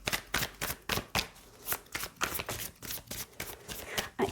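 A deck of tarot cards being shuffled up close, a steady run of crisp riffling bursts and soft slaps repeating in quick rhythm, with no voices.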